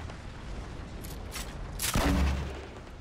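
Gunfire in the Fortnite video game: a few faint shots early on, then a louder burst of gunfire with a boom near the two-second mark, over steady game background noise and no speech.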